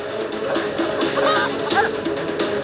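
Chickens in the video game WildCraft give loud, continuous squawking and honk-like clucking, dense and close throughout, over a steady background.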